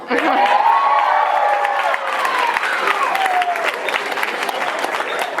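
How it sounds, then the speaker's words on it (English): A large crowd at a school award assembly applauds loudly and continuously, with cheers and whoops rising over the clapping. "give yourselves, your faculty, and your parents who are here today a round of applause"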